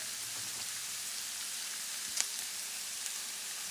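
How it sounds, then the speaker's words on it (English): Frozen vegetables for chicken fried rice fry in a pan, a steady close sizzle with a brief sharper crackle near the middle, no voices. "we're going to let this go ahead and fry for about a good"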